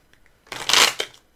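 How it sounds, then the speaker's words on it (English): Tarot cards shuffled by hand in a single quick riffle, a brief crisp burst of flapping card edges close to the microphone in an otherwise quiet room. "That wasn't the smoothest shuffle."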